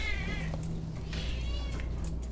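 A cat meows once indoors in a house full of plants, a short, faint call near the start, followed by soft rustling over a low, steady hum.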